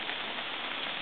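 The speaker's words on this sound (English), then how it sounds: "the rain's beating down again" Rain beats down steadily outdoors in North Wales, a dense uniform hiss of drops with no talking, heard only briefly.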